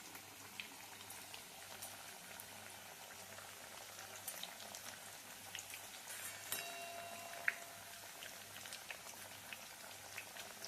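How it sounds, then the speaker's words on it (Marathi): Coriander vadi fry crisp in oil over a medium gas flame, giving a soft, steady bubbling sizzle with small crackles and pops, quiet and close, with no talk. "मीडियम गॅसवर वड्या ह्या आपल्या चांगल्या खरपूस तळून घ्यायच्या आहेत"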